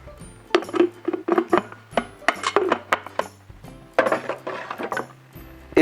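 The milk container of a Cool Control coffee machine is closed, with a busy run of plastic clicks, clacks and small knocks as parts are fitted and snapped shut, close and fairly loud.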